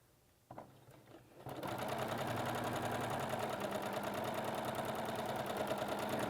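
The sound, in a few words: sewing machine stitching quilt flying geese unit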